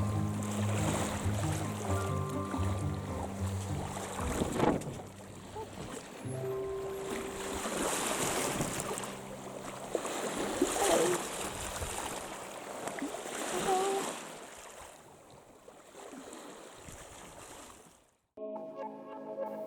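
Sailboat running wing-on-wing through ocean waves between Port Arthur and Schouten Island, with a continuous wash of water and wind along the hull and a few louder surges, with no talk.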